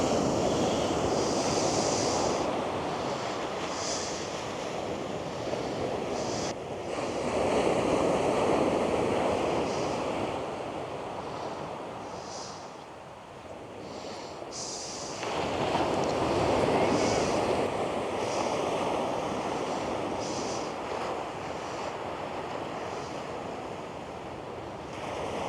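Big waves crash against a sea wall in a steady roar of surf, swelling and easing as breakers roll in, with wind buffeting the microphone throughout and no voices.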